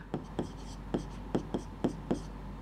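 Chalk tapping and scraping on a board while a math solution is written, seven or eight crisp close strokes in an uneven rhythm over faint background hum.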